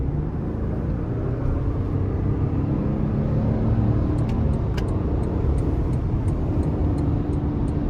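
A 2023 Toyota Tundra SR5 with the 3.4-liter twin-turbo engine accelerates hard in sport mode, a steady loud low engine rumble and road roar filling the cabin throughout with no talk.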